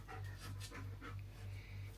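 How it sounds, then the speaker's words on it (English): A dog pants steadily and close by, rapid rhythmic breaths repeating throughout, with no talking over it. "The dog."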